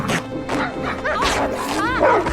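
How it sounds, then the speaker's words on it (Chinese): Several dogs barking and yipping outside at night, close and loud, in short repeated bursts with whiny rising yelps, while a voice talks over them. "她听闻屋外传来阵阵狗叫"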